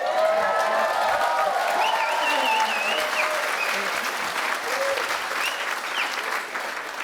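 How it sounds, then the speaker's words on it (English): Gala audience at the Walking Mountains A Taste of Nature event breaks into loud, sustained applause with cheering and whoops, a dense crowd roar that holds steady for several seconds. "let's just give a huge cheer for the rain."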